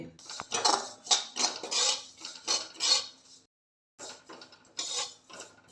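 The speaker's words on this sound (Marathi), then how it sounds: "आपलं सुकं खोबरं भाजून होत आले मी याच्यातच एक चमचा खसखस घालून घेते" A spoon scrapes and clinks against a pan as dry coconut and poppy seeds roast, coming in rhythmic close-up strokes with a short pause before stirring resumes.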